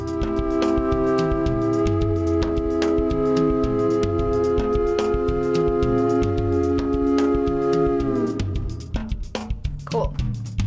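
A Seaboard RISE keyboard performance plays back through plugins with edited automation, sustained layered tones holding steady before dipping and fading into softer, scattered notes at the end.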